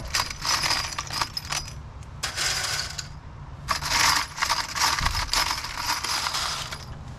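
Brass cartridge cases rattle and clink continuously in a cleaning tumbler, a dense metallic jangle with steady churning and no talk.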